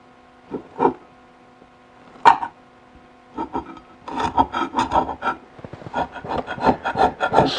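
Coating being scraped off a Ka-Bar Becker BK-10 knife blade and spine: close, raspy scraping strokes, a few isolated ones at first, then a faster, steadier run of repeated rubs.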